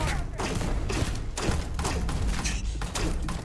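Rapid shots from a small gun in a video game, a string of close, punchy thuds and cracks fired in quick bursts, with no voices over them.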